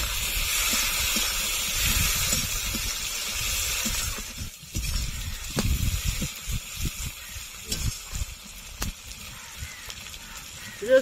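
Tomatoes dropped into onions already fried red in a pan for a Bengali potato and ritha fish curry, giving a loud steady sizzle and hiss up front that breaks off briefly, then returns as softer crackling bursts with faint talk.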